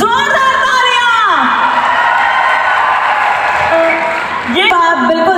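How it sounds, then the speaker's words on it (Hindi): A festival crowd at the Etawah Mahotsav opening cheers and whoops with broad applause throughout, loud and close, with shouted voices layered over the clapping. "ये बात बिल्कुल दिल से आई है, ये ताली की आवाज."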